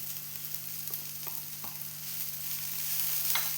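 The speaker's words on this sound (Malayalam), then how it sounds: "എല്ലാം കൂടി നമുക്ക് ഇളക്കി കൊടുക്കാം" A spring onion stalk stir-fry with coconut sizzles softly in a pan, quiet steady frying with a few light scrapes of stirring.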